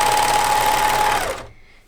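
An overlocker stitching jersey fabric for baby leggings runs in one loud, steady mechanical whir, then stops abruptly and fades to quiet.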